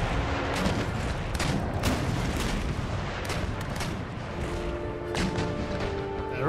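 Cannon round shot booms out repeatedly in an Empire Total War naval battle, heavy artillery fire with scattered blasts and crashes over a constant roar of battle.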